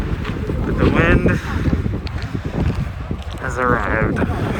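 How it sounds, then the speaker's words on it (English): Strong wind gusts buffet the microphone at an Icelandic waterfall, a loud rumbling roar rising and falling under continuous talking. "We were warned about the wind."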